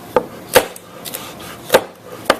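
A knife chops bell pepper on a cutting board, with five or six sharp, separate thuds at an uneven pace, close by and clear, against quiet kitchen background.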